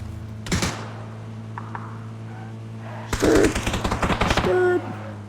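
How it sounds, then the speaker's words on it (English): Gunfire from a BZ grenade launcher in a video game: a sharp burst, a short pause, then a longer, dense run of rapid mechanical shots and clanks with a steady background hum throughout. "And then shoot the BZ grenade launcher."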